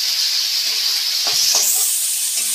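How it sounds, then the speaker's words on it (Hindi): Onions sizzling in hot oil left over from frying Manchurian balls, the start of a Manchurian gravy; a steady, close, bright hiss runs throughout with a few soft stirring knocks and no talk. "जो बॉल्स छाने थे वही तेल में, यहीं पर मैं प्याज डाल दूंगी।"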